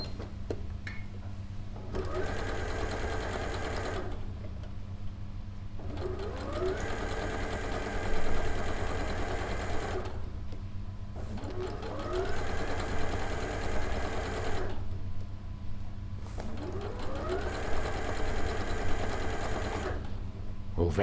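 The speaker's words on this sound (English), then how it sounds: "Now I'm going to stitch all the way round on this fold of my bias binding." Sewing machine stitching along the fold of bias binding, running in several sustained whirring bursts of a few seconds each with brief stops between, close and steady over a low background hum.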